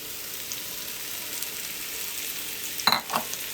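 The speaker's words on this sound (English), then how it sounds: "start sauteing up some of these mushrooms" Mushrooms sautéing in a pan on a stovetop give a steady, soft hiss throughout, with a couple of brief clinks or stirs near the end.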